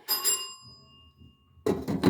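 A home doorbell rings once with a bright metallic ding that hangs and fades out, followed shortly by a nearby voice speaking.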